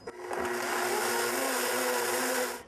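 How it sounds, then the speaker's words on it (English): A blender whirs steadily at high speed while blending almond milk, a loud continuous motor roar that starts abruptly and holds for a couple of seconds before easing off. "if the blender runs too long, then you heat up the almond milk"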